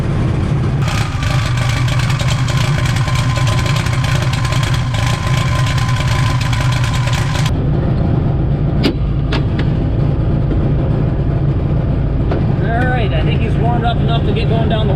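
A 2234cc VW engine fitted with Snake Eater fuel injection idles a little grumpily while still warming up, a steady low rumble running throughout, with a louder broadband rush early on and a few sharp clicks later.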